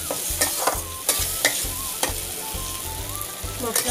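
Chopped green chillies stirred into sizzling masala for an egg tadka, with steady frying hiss and repeated spoon scrapes against the pan at a regular rhythm, close and alone.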